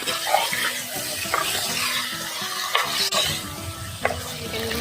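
Village-style country chicken (natukodi) curry is stirred in hot oil, a spoon scraping the pan in repeated strokes over steady close sizzling.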